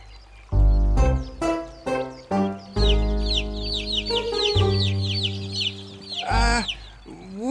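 Cartoon ducklings in an animated children's show chirp in a busy, overlapping run of high, bright peeps, with lower clucking, honking calls mixed in throughout.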